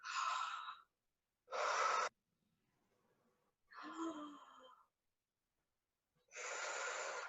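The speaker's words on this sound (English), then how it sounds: "you can help your child by actually slowing down your breathing and making it very audible" Slow, deliberately audible breathing by an adult, four long breaths in and out with quiet gaps between, close and soft with no speech.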